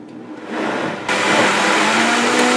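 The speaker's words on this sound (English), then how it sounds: "1 cup of gourmet vegan mozzarella, and we'll blend that in a little bit" Blender running a mix of pureed garlic, onion and vegan mozzarella: a loud, steady motor whir that rises in pitch and power partway through, then cuts off abruptly at the end.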